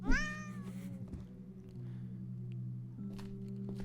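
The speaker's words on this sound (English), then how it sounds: "I'm gonna let all the cats in, okay?" A cat in the video game Burnhouse Lane gives a clear, rising meow at the start, then falls silent over a steady low hum of game ambience.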